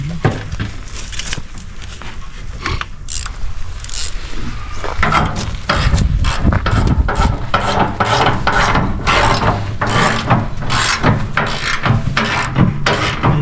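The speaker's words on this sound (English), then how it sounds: "You have a socket ratchet behind you." A socket ratchet tightens hardware on a 1988 GMC OBS truck, giving a steady run of rapid, close metallic clicks and rasping ratchet strokes that continues for the whole stretch, with no talking.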